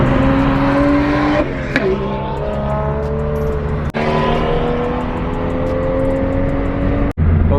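A car's engine drones loud and close while cruising at a car meet, its pitch rising and falling as the revs change, broken by a couple of sharp gear-shift dips.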